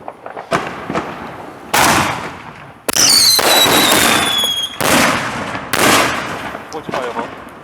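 Loud Independence Day fireworks in the United States bang and crackle in a rapid series of sharp bursts, some with whistling streaks, echoing between blasts.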